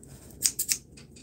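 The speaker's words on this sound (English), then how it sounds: "We'll use the scissors because we don't want to dull the knives." A few quick crisp snips of scissors, close by, in an otherwise quiet room.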